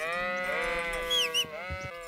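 Sheep in a medieval video game give a loud, wavering bleat followed by shorter broken bleats, heard close with no talking.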